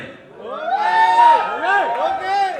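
Crowd at a cricket league launch event shouting and cheering together, overlapping voices rising and falling in sustained, swooping yells, fairly close and loud.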